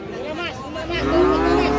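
Limousin cattle at a busy cattle market in Tuban give a loud, close drawn-out moo, rising and swelling over background chatter from the crowd.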